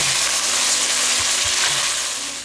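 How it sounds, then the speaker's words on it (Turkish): Rice frying in butter in a pan until glossy: a loud, dense, continuous sizzle close up, with a few soft stirring knocks underneath, tapering slightly at the end. "Şöyle parlak bir görünüm kazanana kadar kavuruyoruz."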